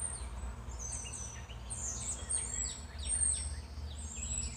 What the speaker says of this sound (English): And having these birds chirping while I'm sitting right here next to my patio door